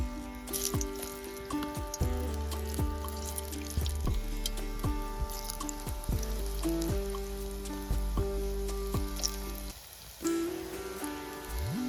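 Balls of bottle gourd kofta batter fry in hot oil for a Rajasthani dudhi kofta dish, a steady close sizzle and crackle with popping bubbles, over a sustained musical background.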